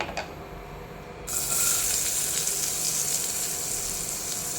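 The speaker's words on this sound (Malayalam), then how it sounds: "ഇതൊക്കെ നന്നായി വഴറ്റി വന്നിട്ട് നമുക്ക് ലാസ്റ്റ് കറിവേപ്പില ഇടാം" Shallots and chili powder sauté in hot oil: after a quiet start, a loud, bright sizzle erupts and holds as a dense, steady frying hiss with faint crackles throughout.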